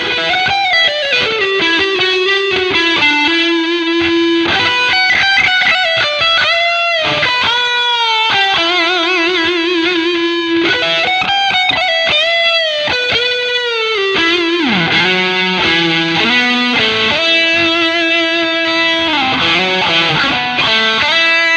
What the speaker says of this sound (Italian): il suono al manico, che qui sì è differente dal suono dell'humbucker